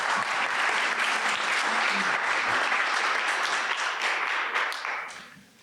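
An audience in a hall applauds to welcome a speaker at a debate on the constitution. The dense, even clapping holds steady and loud, then fades out over the last second.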